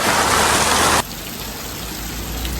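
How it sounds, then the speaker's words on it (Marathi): Heavy monsoon rain pours in a loud, dense hiss for about a second, then drops to a softer steady patter. "पाऊस भरपूर भरलेला आहे"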